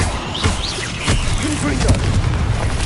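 The Confringo blasting spell goes off in Hogwarts Legacy, a couple of sharp, booming bursts with crackling debris amid busy combat effects and a voice.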